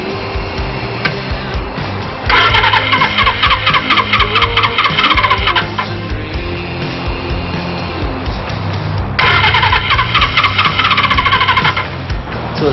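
A 1978 Suzuki motorcycle engine idles unevenly and sputters, running close and loud, with two stretches of harsher, rapid rattling bursts breaking through the rough running.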